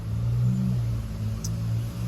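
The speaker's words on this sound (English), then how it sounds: "Hold on, noisy car." A passing car's engine rumbles low and steady nearby, a muffled, continuous drone with no voices.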